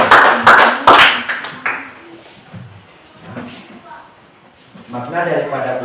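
A classroom of students claps hands in a short burst of loud, close clapping that quickly dies away, followed by quieter room sounds and a teacher's voice.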